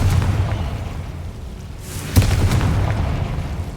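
A Confringo fire spell blasts in Hogwarts Legacy, a single sharp boom bursting out midway over a dense, rumbling game soundscape with no talk.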